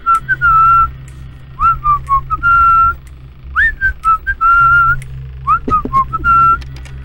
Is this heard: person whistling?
yes